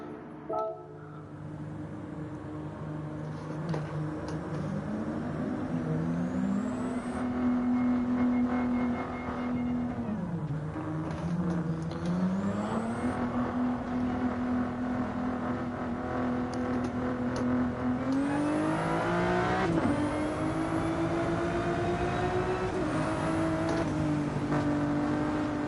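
A Ferrari GT3 race car in Gran Turismo 7 hums along with engine tones climbing and dipping through gear changes, a moderately quiet continuous drone that rises in revs near the end, with no talking.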